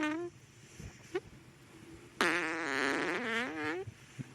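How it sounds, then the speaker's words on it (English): A fart sound effect is played back, with a short squeaky burst early on and a longer, louder, wavering blast in the second half, surrounded by fainter noises. "Oh, this is a fart."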